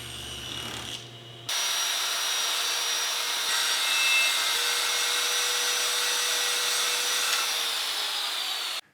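A power saw rips a glued-up wooden panel to final width, starting abruptly with a loud, steady whine and cutting noise that holds for several seconds before shutting off.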